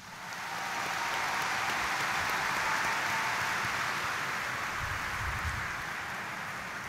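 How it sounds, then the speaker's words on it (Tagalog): A large church congregation at a morning mass in Quiapo, Manila bursts into loud, sustained applause, a dense roar of clapping that swells quickly and holds steady throughout. "Ang gustong tulungan ni Jesus Nazareno, pumalakpak ng malakas."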